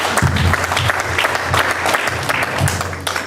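An audience applauds Yves at a community office presentation, with steady, dense clapping from many hands that carries through the whole stretch without a break.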